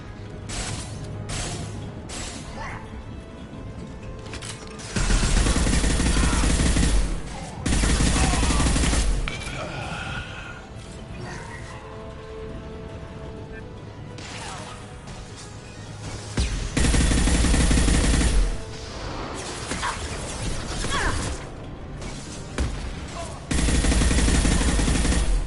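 Loud bursts of gunfire in a video game, heavy automatic volleys arriving in repeated blocks of several seconds separated by quieter stretches of lighter shooting and game noise.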